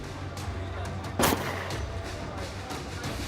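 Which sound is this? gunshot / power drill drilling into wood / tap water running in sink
gunshot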